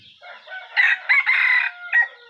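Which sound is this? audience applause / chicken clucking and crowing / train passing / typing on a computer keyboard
chicken clucking and crowing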